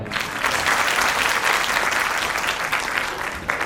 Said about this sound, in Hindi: यूरो जेम्स के लिए तालियां बजा दो